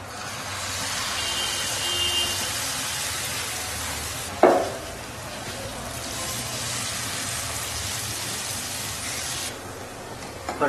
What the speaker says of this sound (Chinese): 我们开始煎煎饼。